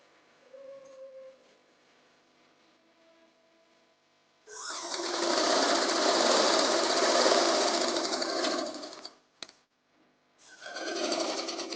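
A sewing machine runs steadily for several seconds, stitching elastic onto plazo trouser fabric, then pauses briefly and starts again; before it begins, a faint quiet stretch with low background hum.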